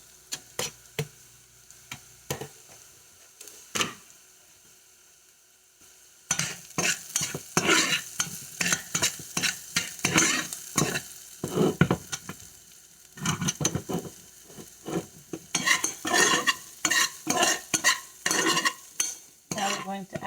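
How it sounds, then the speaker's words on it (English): Onions and garlic fry in a pan while a spoon stirs and scrapes them, producing a faint sizzle under rapid, irregular clacks and bursts of stirring that grow busier partway through. "We're going to go ahead and add the garlic in."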